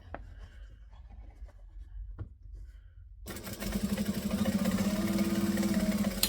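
Sewing machine top stitching a narrow seam, starting after a few quiet seconds of faint handling clicks and then running steadily at a continuous mechanical whir, close and fairly loud.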